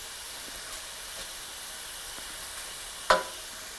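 Food left to sit and fry in a pan while making cavatelli gives a steady, soft sizzle and hiss throughout, with a single sharp crackling pop near the end and no talking.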